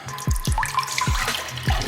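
Water pours into a shaker cup holding aminos, a steady splashing, gurgling fill with a few sharp low plops, close and continuous for under two seconds with no talking.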